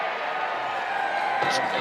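A stadium crowd at an Oldham versus York Knights rugby league match roars after a successful conversion kick, a dense continuous cheer with a commentator's voice over it.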